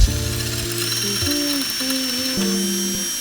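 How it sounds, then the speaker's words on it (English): A larger drill bit grinds into a metal knife blank during homemade knife making. Several short whining bursts rise and fall in pitch, loud and close, with nobody speaking. "Using a bigger drill bit now."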